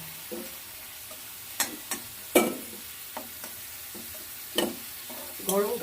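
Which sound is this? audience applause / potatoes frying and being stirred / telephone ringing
potatoes frying and being stirred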